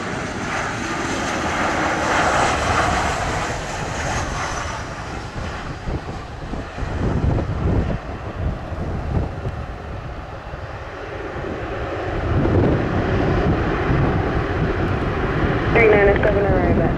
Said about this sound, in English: you have two aircraft coming from the same destination, almost landing at the same time